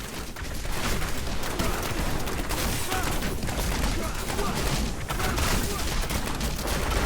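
Dense, continuous barrage of grenade explosions and gunfire in Diablo 3 Reaper of Souls, played as a Demon Hunter; loud, unbroken blasts fill the whole stretch with no clear pauses.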